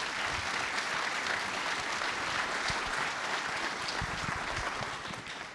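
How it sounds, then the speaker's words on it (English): An audience at an industrial procurement forum applauds its panel, dense sustained clapping from many hands that holds steady, then begins to thin toward the end. "let's give a round of applause to our panel"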